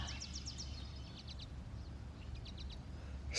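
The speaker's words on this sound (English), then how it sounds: "I'm hearing some birds here." Wild birds in a meadow at a state historic park sing in several faint, high chirping bursts at a distance over a steady low hum.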